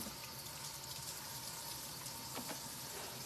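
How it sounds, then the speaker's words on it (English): Tap water runs steadily over a raw salmon fillet from Costco in a kitchen sink, a constant close hiss and splash with faint spattering and no voices. "I have to come rinse it out"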